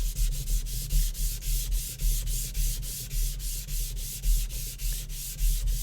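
Rhythmic back-and-forth scrubbing as a rust eraser cleans a loaded sharpening stone after knife sharpening, close gritty rasping strokes repeating about three times per second.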